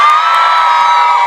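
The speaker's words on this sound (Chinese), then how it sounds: "给自己掌声加再尖叫声" A concert crowd at an outdoor beach music festival keeps up loud, continuous cheering and screaming, a steady dense roar of many voices.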